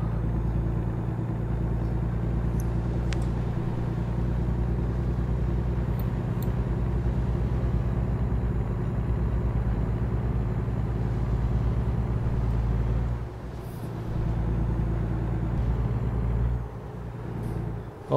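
A heavy truck in American Truck Simulator cruises at steady speed, its low diesel engine drone continuous and loud with a faint high whine, briefly dipping near the end before resuming.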